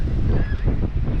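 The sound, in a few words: strong wind at the beach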